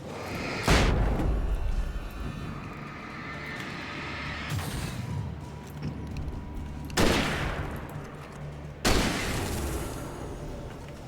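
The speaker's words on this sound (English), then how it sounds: "Why are there just random fireworks here?" Fireworks going off in the video game Alan Wake, several sharp loud bursts spaced seconds apart, each ringing out over a low rumbling background.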